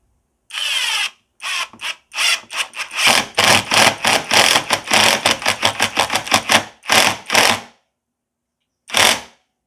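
A brushless impact driver on its second torque setting drives a 2-inch screw in loud close bursts of rapid hammering rattle, one short burst, then a long run with brief pauses, and a final short burst.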